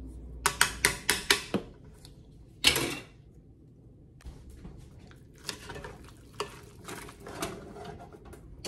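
Corn and peach salsa stirred in a pot, a spoon scraping and clinking in quick sharp bursts, then softer scattered knocks and faint bubbling as the mixture comes up toward a boil.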